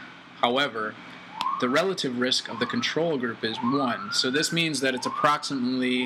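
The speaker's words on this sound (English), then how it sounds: "apologize for the sirens in the background" Wailing sirens rise and fall in the background while someone talks steadily over them, the sweeping tones repeating several times beneath his voice.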